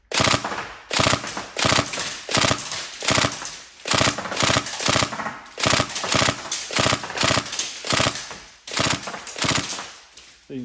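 A Tokyo Marui MP5 SD6 NGRS airsoft gun fires repeated short bursts, each a rapid mechanical clatter of the gearbox cycling, separated by brief pauses, close and fairly loud.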